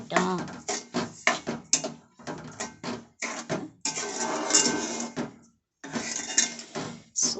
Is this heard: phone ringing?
no